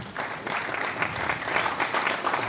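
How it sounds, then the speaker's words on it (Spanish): An audience at a public presentation on a press law applauds a welcomed guest with a brief, steady burst of moderate clapping. "La recibimos con un fuerte aplauso, por favor, por la presencia de la misma"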